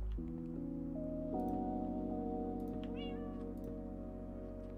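A cat meows in the video game Minecraft, giving a short, clear tonal meow amid steady game background tones and a few soft effect sounds.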